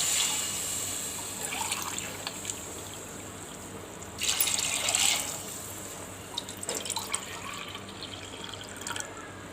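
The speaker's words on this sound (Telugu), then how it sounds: "రెండున్నర నీళ్ళు వేసుకుందాం." Water runs into a cooking pot holding ginger and mint for chicken and bagara rice, a steady trickling pour with a brief louder splashing burst midway, close and alone.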